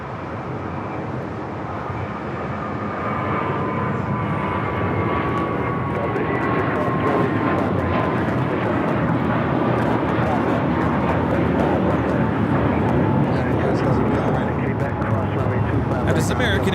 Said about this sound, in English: That is American Airlines 238 taking off to JFK on the A321